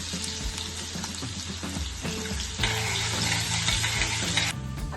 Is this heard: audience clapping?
no